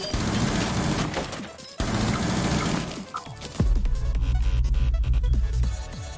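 Rapid bursts of gunfire in Rainbow Six Siege, dense and loud, with controlled automatic shots followed by heavier low booming impacts in the back half.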